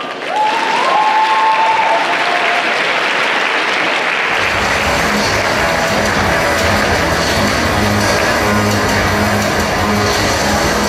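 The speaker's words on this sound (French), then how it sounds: "Elles arrivent sur scène dans quelques instants, je vous demande de les applaudir bien fort." Loud, dense audience applause fills a cosplay contest hall as cosplayers come onto the stage, a brief whistle or cheer rising early, the clapping then swelling and holding steady with a low rumble of the crowd beneath.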